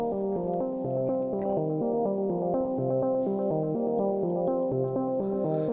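Bass melody line played on a Korg Wavestate synthesizer, a steady stepping sequence of smooth, rounded low synth notes repeating at an even pace, moderately quiet and heard alone.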